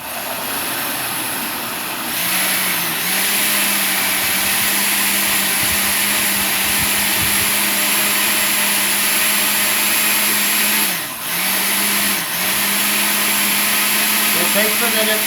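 A blender whirs fresh lemons into a drink, its loud steady motor whine running continuously for about fifteen seconds with a couple of brief dips in speed.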